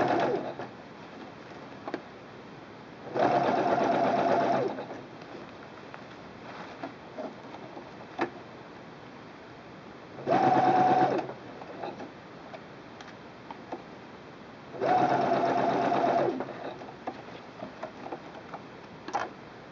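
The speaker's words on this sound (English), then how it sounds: "I have the clear foot B back in the machine and I'm ready to top stitch the upper" A sewing machine with a clear presser foot top stitches the upper edge of a fabric wine bottle gift bag, running in three separate steady bursts of about one to two seconds each, with quiet handling pauses between them.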